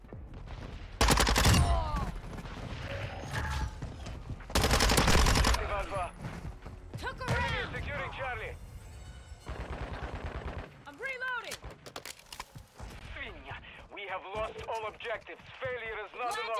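Gunfire from a P90 in Modern Warfare 2 multiplayer, with loud bursts near 1 s and 5 s among scattered shots, game effects and a player talking over the action.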